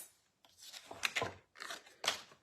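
Scissors snip through craft material up close at a quiet level, giving several crisp cutting strokes in two short bursts separated by pauses.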